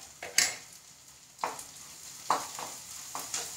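Shallots sautéing in oil with salt for a drumstick-leaf thoran, a quiet steady sizzle from the pan broken by about five scraping stirs at irregular intervals.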